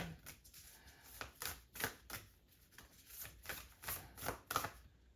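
A deck of oracle chakra cards is shuffled by hand, giving a steady run of soft, crisp riffling slaps repeated in quick rhythm, close and fairly quiet, with no talking.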